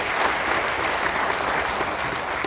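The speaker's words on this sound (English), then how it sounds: "give the World War II vets a big round of applause" A room full of people claps steadily for World War II veterans at an appreciation event, a brief continuous burst of applause with no talking.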